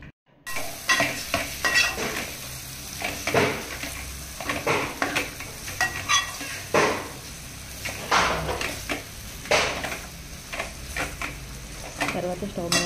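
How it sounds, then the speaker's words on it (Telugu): Mutton tossed with spices in a hot pan gives a close, continuous sizzle broken by repeated scraping and clanking stirs of a utensil against the metal, some louder bursts between. "మటన్ అంతా వేసిన స్పైసెస్ అన్నీ మిక్స్ చేస్తున్నారండి"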